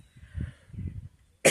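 Low, muffled rumbling bursts lead into a single sharp, loud cough at the end.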